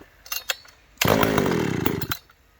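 A cold Pioneer chainsaw on a chilly morning, first a few short pull-cord tugs, then the engine catching and roaring loudly and steadily up close for about a second before cutting out.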